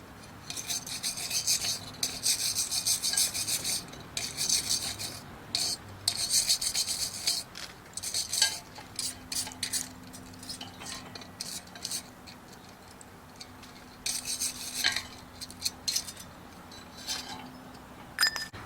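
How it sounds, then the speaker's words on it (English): A wire brush scrapes rust off a metal flower pot holder in rhythmic rasping strokes, coming in bursts with brief pauses and occasional light metallic clinks, close and with no talk. "I'm going to grab myself a wire brush and start the process"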